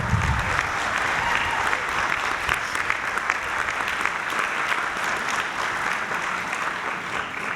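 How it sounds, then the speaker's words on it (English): Graduates and guests applauding at the Columbia Business School EMBA recognition ceremony, a loud, sustained burst of clapping from a large audience that eases slightly toward the end. "Give yourselves another round of applause."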